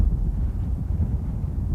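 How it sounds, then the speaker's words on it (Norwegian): Wind blows steadily across the microphone at a campsite in Norway, a continuous low rumbling rush with no voices. "Det blåser litt, og det skal blåse ganske mye ifølge værmeldingen"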